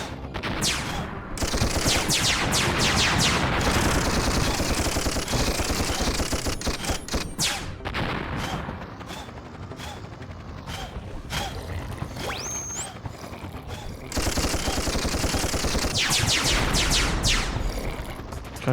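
Rapid bursts of gunfire from the Toy Commander video game, dense automatic volleys with a brief sweeping tone, loud and continuous with a quieter lull midway before the shooting swells again.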